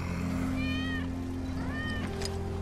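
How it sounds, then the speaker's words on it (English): Two drawn-out cat meows in quick succession over a low steady hum, clear and fairly close, from the video game Final Fantasy VII Remake, in the Sector 7 slums. "That's Wedge's cat"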